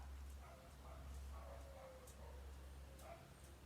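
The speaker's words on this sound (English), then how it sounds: "And the dog barking." A few small yips and barks from a dog, faint and a little distant, scattered over a steady low background hum.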